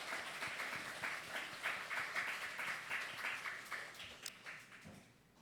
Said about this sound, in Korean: 우리 김종구 어르신 나오셨기 때문에 박수 한번 치겠습니다